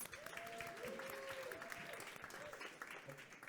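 Audience clapping at moderate distance during a conservation storytelling panel at a food summit, steady and even, with a voice or tone faintly present beneath it.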